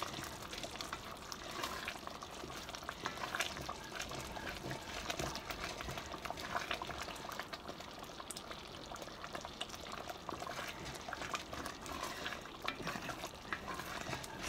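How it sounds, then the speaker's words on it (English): Turkey pot pie filling made from leftover Thanksgiving turkey bubbles in a pot as it cooks, a quiet steady stream of soft pops and simmering close by, with no talk. "Ooh, bubbling away nicely."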